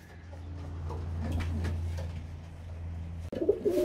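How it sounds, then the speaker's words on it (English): Pigeons coo inside a pigeon trap, low soft repeated coos over a steady hum, ending with a brief rattle. "So all the birds are back in."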